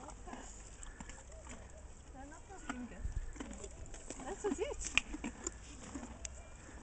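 Horses being fed, with soft hoof clops, shuffling and faint animal sounds at low level amid birds cooing nearby and people talking quietly in the background.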